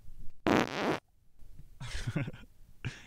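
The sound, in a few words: fart sound effect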